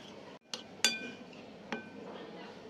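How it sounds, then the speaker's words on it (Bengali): Semolina batter with yogurt being mixed in a bowl, with a few sharp clinks of a utensil against the dish and a soft, steady scraping and stirring between them, close and fairly quiet. "সমস্ত উপকরণ খুব ভালো করে একটা মিক্স দিয়ে নিচ্ছি"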